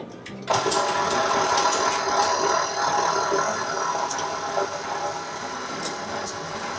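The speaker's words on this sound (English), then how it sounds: "I have switched the bowl of our stand mixer. We're back to the regular standard bowl with the paddle attachment." A stand mixer with the standard bowl and paddle attachment starts up suddenly and churns butter with a steady whirring motor drone that eases slightly over time, close and alone with no talk.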